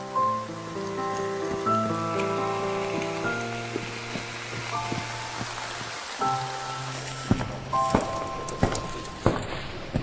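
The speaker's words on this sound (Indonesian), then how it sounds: "Hujan deras banget di luar." Heavy rain pouring outside, a steady wash of patter with occasional sharper drips, running under a sustained musical score with no one talking.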